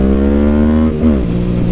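A Yamaha MT-07 motorcycle engine revs up loud and close, holding a steady high note, then dipping briefly and climbing again across a short burst with no talking.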